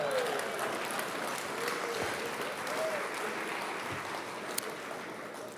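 Steady applause from an audience at the 2025 Maui State of the County address, a soft, even wash of many hands clapping that holds at moderate volume throughout.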